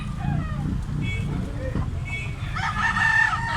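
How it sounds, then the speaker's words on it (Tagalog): A rooster crows in the background amid steady ambient noise and nearby talking, the call rising clearly near the end. "May nga manok."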